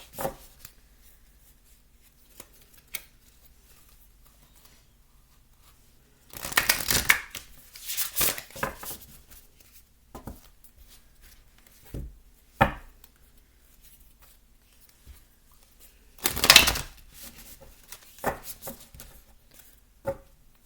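Tarot cards being laid down and shuffled on a table during a quiet reading, a few separated bursts of soft slapping, rustling card sounds close by between long near-silent pauses, with no talking.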